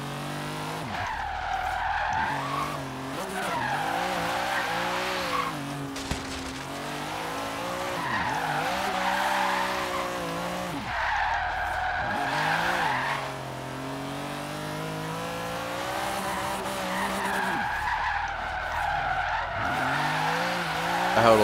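A car drifts in Forza Horizon 3, tires squealing in long wavering bursts over a revving engine, with repeated slides and throttle changes sustained up close.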